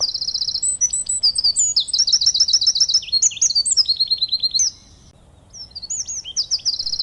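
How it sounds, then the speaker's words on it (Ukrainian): Birds singing close by in quick, high chirps and trills, overlapping in busy bursts, with a short lull before the calls resume. "це спів пташок."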